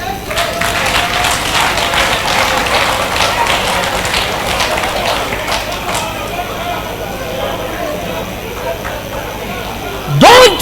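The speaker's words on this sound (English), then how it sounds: "clap for them" An audience at a Nigerian comedy show clapping for women seated among them, dense applause for about six seconds that then thins out and fades under background noise.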